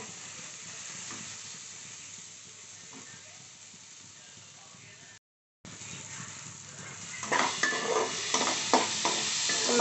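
Makhana (fox nuts) frying in a pan over high heat gives a steady close sizzle and hiss, with a brief gap midway and then louder scraping, stirring bursts toward the end.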